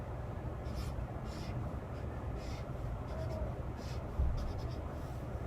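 A pen or pencil scratches across paper, drawing a function table by hand in a series of short strokes, up close against a steady background hum.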